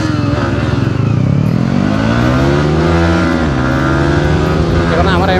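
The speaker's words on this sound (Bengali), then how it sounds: "এখন আমি আমার এমটি চালাবো, এখন সৌরভ ভাই R15 B3 চালাবে।" A Yamaha MT-15 motorcycle is ridden on a Sunday group ride alongside an R15. Its engine drones loud and steady up close, the pitch climbing and falling as the throttle changes, with faint voices underneath.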